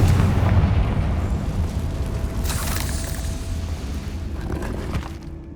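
A fire-spell blast goes off in the video game Hogwarts Legacy, a loud booming explosion with heavy rumbling debris that slowly fades over several seconds.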